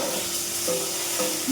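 A large fish head frying in a pan gives off a steady, moderate sizzle with faint scraping from stirring, and no voices over it.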